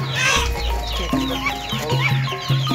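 Muscovy ducks at the Sumpiuh market in Banyumas give a busy run of low clucking and grunting calls, steady and close, with a constant market background and no clear talk.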